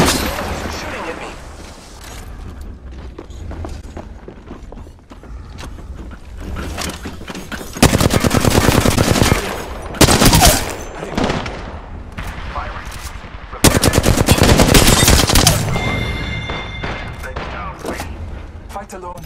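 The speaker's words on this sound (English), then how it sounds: "I'm taking fire. You're shooting at me." Heavy automatic gunfire in the video game Apex Legends rattles toward the player in several loud sustained bursts, with quieter stretches between them and game voice lines over the top.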